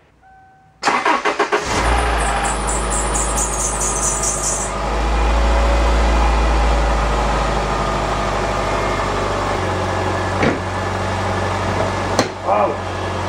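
A Subaru Legacy's engine, after a catalytic converter and muffler swap, cranks and catches, then settles into a steady, loud idle rumble with a few clicks and knocks near the end.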